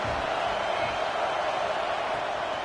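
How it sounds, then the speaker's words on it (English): Stadium crowd noise in the video game College Football 26 on a third down, a steady, loud, dense roar with no breaks or swells. "The Tide crowd rolling noise down onto Saban Field on third down."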